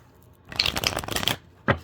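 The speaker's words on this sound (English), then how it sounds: "I'm going to shuffle the cards" A Mermaid tarot card deck being shuffled, with a close, dense rustling riffle of cards lasting about a second, then a brief sharp tap of the deck squared at the end.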